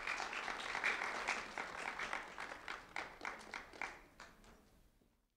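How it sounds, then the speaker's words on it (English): A round of applause from an elementary school award audience, dense clapping that swells early, then thins into scattered claps and fades out over about five seconds. "a round of applause for Jomar Espada Vasquez,"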